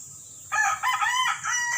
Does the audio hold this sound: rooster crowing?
yes